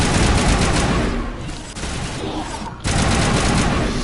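Dense enemy sniper and heavy weapon fire in Mass Effect Legendary Edition, a loud, continuous barrage of overlapping shots with brief dips in intensity, no voices over it.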